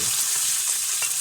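A loud, steady sizzle of hot tempering oil poured into crab curry crackles close by, continuous and bright for the whole moment, with no voices.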